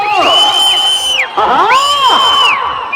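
A loud crowd at a senior bulls competition in Naraharipuram shouts and cheers in sustained waves, with rising whoops and calls close by, briefly dipping before swelling again.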